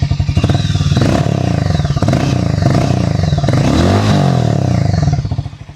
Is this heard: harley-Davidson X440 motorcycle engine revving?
yes